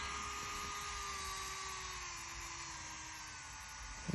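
E C Basket electric nail file spinning at its full 30,000 RPM, a steady, thin high-pitched whine held close up and smooth throughout, with no voices over it.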